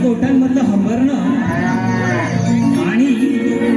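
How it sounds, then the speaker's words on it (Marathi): Cows and calves in a cattle shed moo in long, loud, close lowing calls that overlap and rise and fall in pitch, with no talking. "गाई वासरांचं गोठ्यांमधलं हंबरणं"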